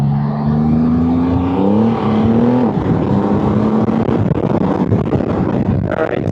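Road traffic moving through a neighborhood, with a car engine droning and rising in pitch as it passes close by, followed by a steady rushing wash of vehicles.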